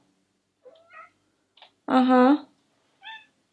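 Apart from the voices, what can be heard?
cat meowing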